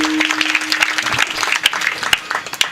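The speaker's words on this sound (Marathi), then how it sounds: "गावासाठी एकदा टाळ्या वाजवा." A village gathering claps together, a crisp, busy patter of many hands with sharper individual claps standing out, close and loud, with no voices over it.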